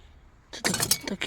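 After a quiet moment, glass pieces clink and rattle against each other in a short, close burst of bright chiming knocks.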